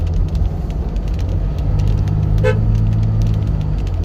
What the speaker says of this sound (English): Got a honk.